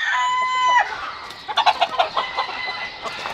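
Game fowl chicks and roosters at a cockfighting breeding yard: a rooster's crow rings out first, followed by a run of choppy, close clucks from several birds.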